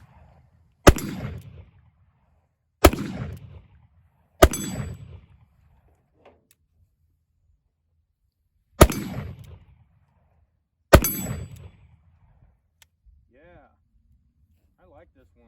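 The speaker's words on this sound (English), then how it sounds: "I do have some of us shooting some 45 Schofield through my buddy's 1871 open top" Five sharp revolver reports of .45 Schofield fired through an 1871 open top, each loud crack ringing with a metallic tail, spaced unevenly with a few seconds between shots and brief pauses, no talking over them.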